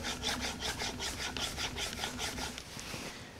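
A chisel is stroked back and forth on an 8000 grit sharpening stone, giving a steady run of close, even rubbing passes at a regular rhythm with no voices.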